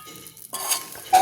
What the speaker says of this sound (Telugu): క్యాషు వేసుకున్నాం బాగా కలుపుకుందామండి